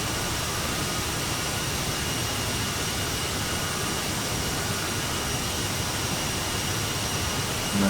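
The Aerosoft CRJ's jet engines in Microsoft Flight Simulator hum and whine in a steady, unbroken drone, moderately loud and constant with no talk over it.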